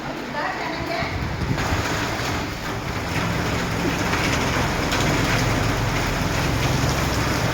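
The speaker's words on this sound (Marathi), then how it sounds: "मस्त पाऊस पडतोय" Steady rain pouring down in a dense, continuous hiss, loud and close, with faint voices mixed underneath.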